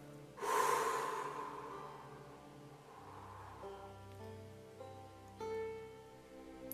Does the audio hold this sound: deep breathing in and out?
yes